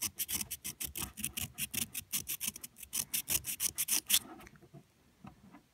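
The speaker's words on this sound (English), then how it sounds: "I'm sanding the plastic." Rapid rhythmic rasping strokes, a steady back-and-forth scrubbing of abrasive on a plastic car tail light, close by, fading out near the end.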